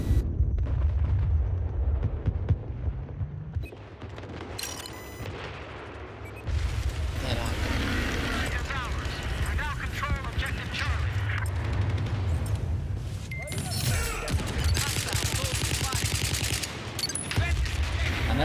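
Heavy gunfire from a Battlefield-style infantry-only video game: dense, overlapping rifle and machine-gun bursts with booming blasts, loud and nearly continuous, while players talk over the shooting.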